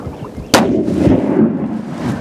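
A single loud, sharp rifle shot rings out during an Alaska black bear hunt outdoors, followed by a long rolling echo that fades over the next two seconds.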